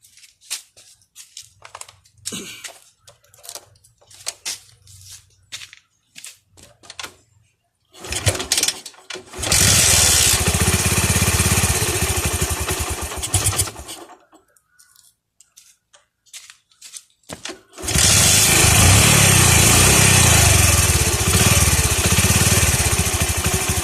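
A motorcycle engine starts and runs loudly in two long stretches with a short pause between them, its steady roar filling the clip after some quieter shuffling and faint talk at the start.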